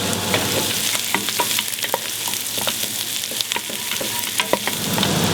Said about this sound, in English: I begin by sautéing my carrots, onions, celery and swede.